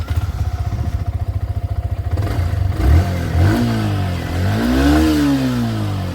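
Yamaha R15 V3 motorcycle engine revved hard to about 8000 RPM, starting at a steady close idle and then climbing in a loud, rising whine that peaks and eases slightly.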